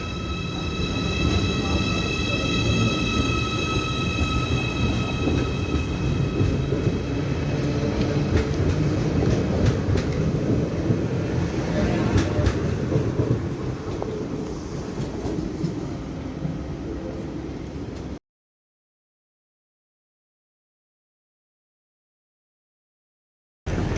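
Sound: train arriving at station

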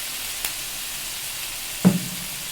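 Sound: onion garlic ginger paste spices frying in oil

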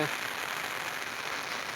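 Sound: rain falling in sunshine

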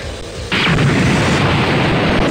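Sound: explosion in the city, from the Dragon Ball Z video game

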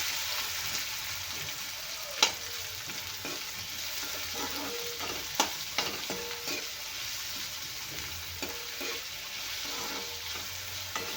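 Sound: chopped onion frying in oil

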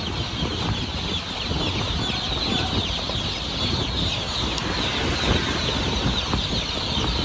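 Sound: chicks in boxes on a boat loading deck

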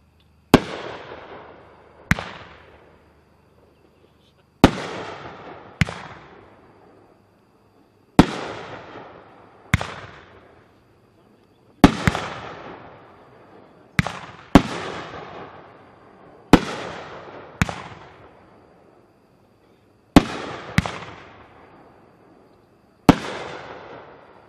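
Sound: Cutting Edge Scuba Diver firework cake, 12 shots

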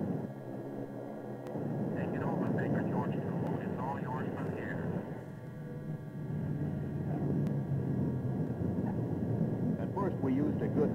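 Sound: aircraft landing on a runway

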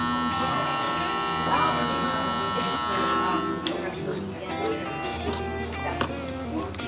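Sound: electric hair clipper with half guard cutting hair

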